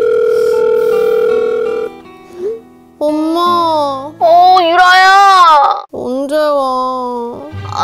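A telephone tone sounds steadily for about two seconds, then a child whimpers and cries in rising, wavering wails that continue to the end.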